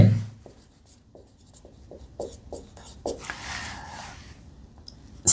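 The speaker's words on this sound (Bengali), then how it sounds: "প্রথমে আমরা লিখব এখানে" Chalk or marker writes on a board during a maths lesson, a series of short, distinct scratchy strokes close by, followed by a longer scrubbing stroke, with no speech.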